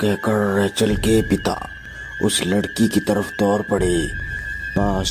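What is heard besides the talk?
No everyday noise stands out behind the speech.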